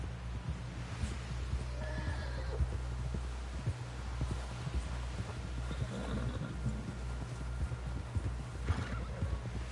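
Hooves clop steadily under a horse's whinny in Red Dead Redemption 2, with a dense low rumble of movement throughout.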